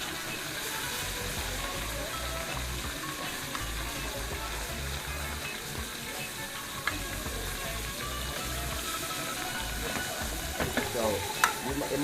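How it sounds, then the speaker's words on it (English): Meat sears in a hot pan during a cooking class, giving a steady, loud, dense sizzle that runs unbroken throughout, with a few small clinks and stirring scrapes near the end. "So it might look like I'm pan frying, but I'm searing."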